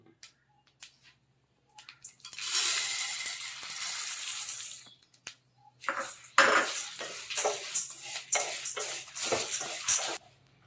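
Black urad dal roasting in a pan while being stirred, giving dry scraping and rattling bursts of metal against pan in two stretches separated by brief quiet, close and fairly soft.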